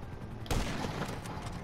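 A single sharp sniper rifle shot booms in a first-person shooter game, followed by a rolling burst of distant gunfire and battle noise.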